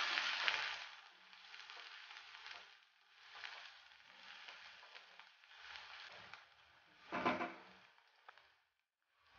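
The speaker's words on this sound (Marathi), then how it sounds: "आता यामध्ये बारीक चिरलेले 2 कांदे घालूयात आणि 1-2 मिनिटांसाठी आपण हे तेलामध्ये फ्राई करून घेऊया।" Finely chopped onions with peanuts sizzle in hot oil in a pan for kande pohe, a steady frying hiss with bursts of stirring and scraping, loudest near the start and around the seventh second, then fading to quiet.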